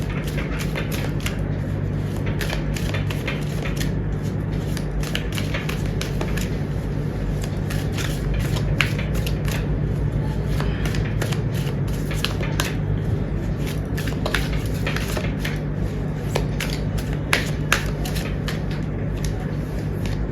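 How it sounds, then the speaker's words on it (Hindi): Tarot cards being shuffled continuously, a dense stream of soft riffling and snapping clicks over a steady background hum, with no talking. "जब तक मैं कार्ड शफल कर रही हूँ"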